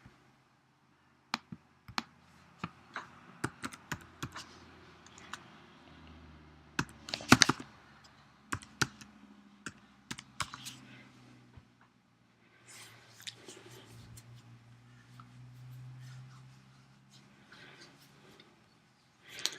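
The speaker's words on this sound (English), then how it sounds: "I'll just type it in" Computer keyboard typing while entering a site address during a WordPress walkthrough: scattered bursts of close, crisp key clicks with short pauses and a few louder taps, in a quiet room with no speech.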